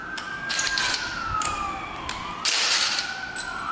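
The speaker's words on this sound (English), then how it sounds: "These stupid freaking sirens." Emergency vehicle sirens wail steadily outdoors in the distance beside a motorcycle fork repair, with the tone sliding slowly, while clanks and ratchet clicks from tools sound intermittently nearby.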